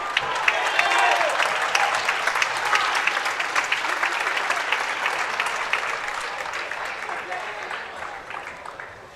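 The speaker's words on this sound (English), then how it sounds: "Let's have another round of applause" An audience applauds at a boys high school basketball game on senior night in a gym, with a dense, steady sheet of clapping and crowd noise that carries on throughout and slowly fades toward the end.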